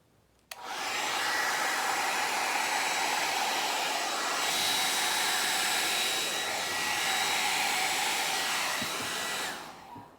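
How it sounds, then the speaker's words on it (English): A torch passes over acrylic pour paint in a Dutch pour to pop the bubbles, giving a steady, loud, close hissing roar that starts abruptly and stops about nine seconds later. "I'm gonna torch the bubbles."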